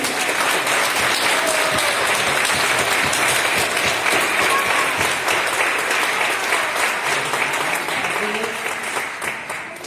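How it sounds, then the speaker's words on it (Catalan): Loud, sustained applause from an audience at an award ceremony, steady dense clapping filling the whole stretch and tapering slightly near the end. "Fort aplaudiment."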